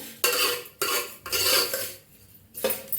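Kheer ingredients being dry-roasted in a pan, with four loud scraping strokes of a metal spoon against the pan and faint crackling in the gaps.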